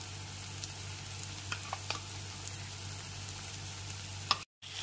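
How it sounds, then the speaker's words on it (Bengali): Carrots and capsicum fry in a pan as tomato ketchup goes in for masala macaroni, giving a steady close sizzle with a few light scrapes and clicks of stirring. "এরপর এর মধ্যে দিয়ে দিলাম 4 টেবিল স্পুন টমেটো কেচাপ।"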